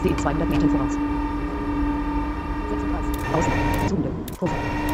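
A heavy, steady drone with a low rumble and sustained tonal hum from a BR 189 locomotive straining with a roughly 2,700-tonne freight train in Train Sim World, continuous throughout with brief metallic clanks.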